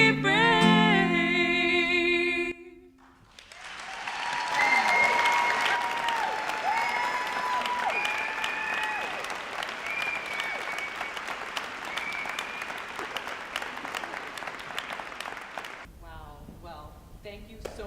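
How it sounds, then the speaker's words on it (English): Audience applause after a live music performance at a Boston event, a sustained wash of clapping and crowd noise with a voice over it, following the last notes of the song. "Let's give them another round of applause."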